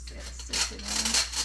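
Dry ingredients, including salt, being sifted for a chocolate pie, giving a close, soft scratchy rasping that swells in short waves.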